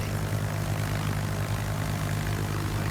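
A video game aircraft engine drones at cruising altitude, a steady propeller hum with a low throbbing tone held evenly under a constant wash of airflow noise.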